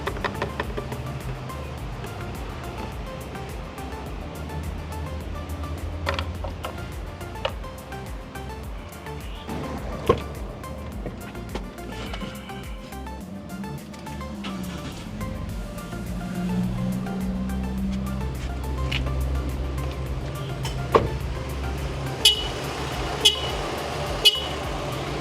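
A car engine with fuel additive runs steadily at idle, a low continuous rumble with a few sharp clicks and taps near the end.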